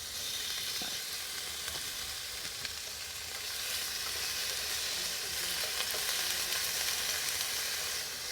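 Satay chicken sizzles steadily in a hot pan at a 4WD campsite, a continuous close frying hiss with faint crackles and no talk.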